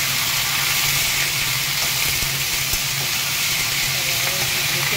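Potato, pumpkin and sprouted chickpeas fry in hot oil over a high flame, giving a dense, even sizzle and hiss that stays loud and steady throughout with a few faint clinks.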